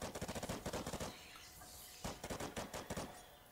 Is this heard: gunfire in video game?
yes